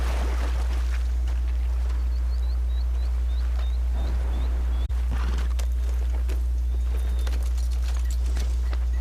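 A horse in Red Dead Redemption 2 online in the Grizzlies region clip-clops steadily at close range over a deep constant rumble, with a few faint bird calls and a brief thud midway.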